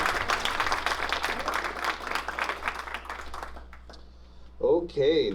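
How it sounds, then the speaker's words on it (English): An audience at a school board meeting applauds retiring teachers, a dense wash of many hands that fades out after about three and a half seconds, followed by a brief stretch of quiet. "How about one more round of applause for our retirees?"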